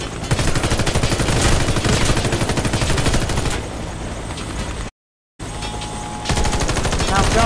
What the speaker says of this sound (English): Stop shooting each other!